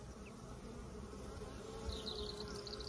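Honey bees foraging around their hive outdoors, making a continuous soft buzzing hum with a few individual bees passing closer, faint and heard with no talking.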